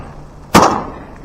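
A single loud shotgun blast during diver duck hunting on windy open water, a sharp close crack with a short booming tail fading over about half a second.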